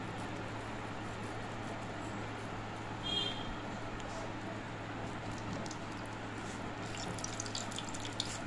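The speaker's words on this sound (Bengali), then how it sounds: "এটাকে জলের মধ্যে ভালো করে চিপে জলে ভিজিয়ে চিপে" Bread gets soaked and squeezed in water for cheesy bread balls, giving a steady close wet swishing with faint drips, alone and without talk.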